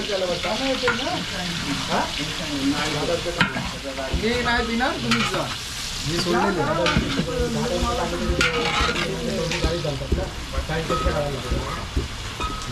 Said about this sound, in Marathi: तेल तापलेलं आहे आता आणि आता टाकत आहे कांदा